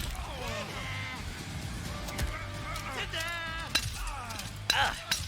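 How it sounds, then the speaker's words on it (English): A glass-shattering effect in a Mortal Kombat tournament match gives a short, bright, crackling burst near the end, heard under commentators' continuous chatter and game sounds. "It's like glass breaking."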